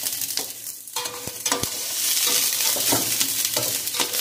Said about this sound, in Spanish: Vamos a dejarlo que se hierven y que se fría hasta que quede